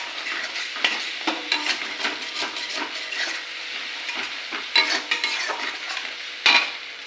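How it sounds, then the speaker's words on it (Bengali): Spices with turmeric and chili powder frying in a pan for an egg and potato curry, a continuous close sizzle with repeated scraping and stirring strokes of a spatula, a few sharper knocks standing out, no talking. "দিয়ে ভালো করে মশলাটাকে কষি।"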